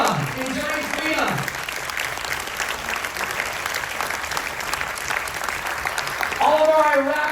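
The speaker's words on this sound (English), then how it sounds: "We're going to keep this applause going." An audience applauds military veterans aboard the Carnival Magic, a dense and sustained roar of clapping that lasts several seconds, with a voice calling out over it at the start and end.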